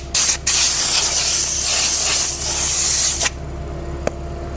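Silver spray paint hisses from an aerosol can onto a sanded wheel rim in one long, loud, close burst, then stops, leaving a quiet hum and a brief click.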